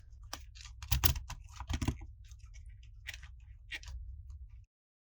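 Small plastic ratcheting clicks from the shoulder joint of a McFarlane Toys Fezzik action figure from The Princess Bride, several quick close clicks in bursts over a low steady hum.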